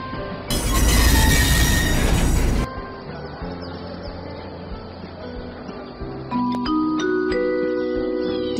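Train departure in the Train Driver 3D game with a Velaro express train: a loud broadband burst of noise early on, then steady rolling rumble, and near the end a layer of clear tonal electronic chimes.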